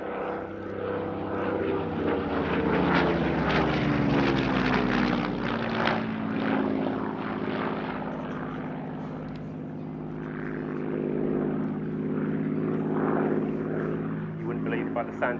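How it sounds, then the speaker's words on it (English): A Hawker Hurricane Mark 1 in September 1940 colours flies at an air show, its piston engine and propeller droning loudly and steadily, the pitch rising and falling as it passes, with commentary heard over it. "She's now represented in the September 1940 colour scheme of Hurricane Mark 1"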